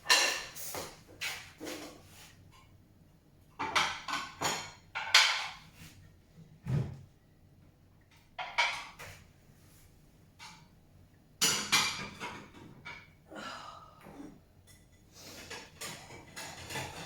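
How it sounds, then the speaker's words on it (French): Dishes being put away in a kitchen: scattered clinks, knocks and clatters in several bursts, close by, with quiet gaps between. "je vais ranger la vaisselle"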